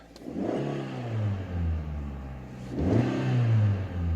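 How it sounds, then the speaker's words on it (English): A 2005 Pontiac Vibe GT engine with a sticky throttle revs up twice, climbing in pitch with each rise and settling between, loud and close with no talking. "revving a little high"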